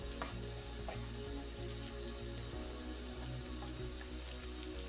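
Onions fry in oil in a kadai, giving a soft, steady sizzle with a faint low hum beneath it, quiet and continuous.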